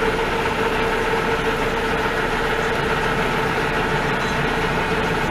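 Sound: mill power feed running under load

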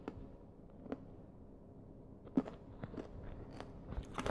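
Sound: crunching candy while recording

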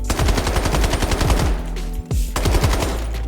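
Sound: gunfire from a gun in the video game Delta Force

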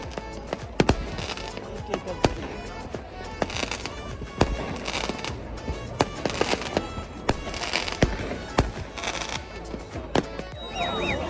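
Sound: New Year fireworks being set off in Switzerland

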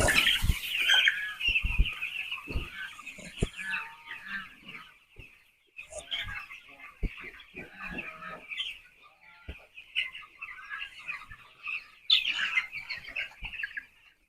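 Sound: chicks clucking

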